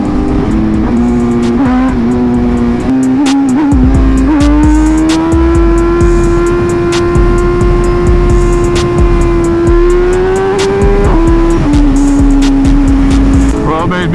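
A Kawasaki ZX6 motorcycle engine revs hard and holds a high, loud, sustained whine during a wheelie, pitch climbing and settling close by.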